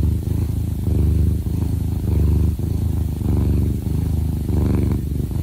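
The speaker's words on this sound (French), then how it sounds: "je ne vous expliquerai pas le principe du ronronnement" A cat purrs close up in steady rhythmic cycles, a low rumbling vibration swelling with each breath in and out, about five cycles, alone with no talk.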